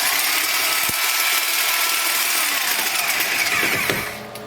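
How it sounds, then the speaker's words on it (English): A diamond-bit cement cutter grinds into sandstone brick with a loud, steady, high-pitched whine and gritty scraping, close up and continuous, easing off slightly near the end, with no talking. "What I had to do is I went as deep as I could with my cement cutter."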